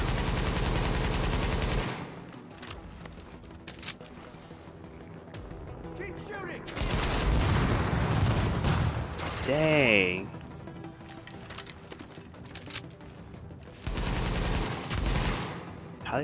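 Gunfire in Tom Clancy's The Division, with loud bursts of rapid automatic shots at the start, middle and end, quieter stretches between and a person talking underneath.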